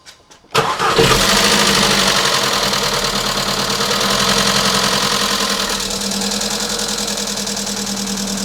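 A 162,000-mile VW Golf 1.2 engine, just fitted with a new timing chain, cranks and catches at once, then settles into a loud, steady idle with a slightly rough, ticking rattle, heard close up.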